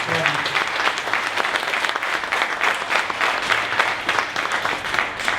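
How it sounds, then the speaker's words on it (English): Audience applause for the startup Title Farm at a 1 Million Cups Dallas event, lively clapping from a crowd with distinct individual claps poking through a steady roar, sustained throughout. "one more round of applause for Title Farm."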